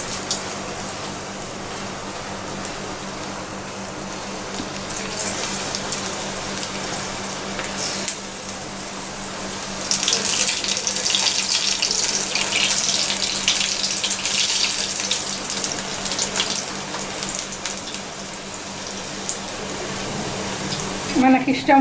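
Onion pakoda batter deep fries in hot oil, giving a steady close hissing sizzle that swells louder midway and continues as a dense crackling wash.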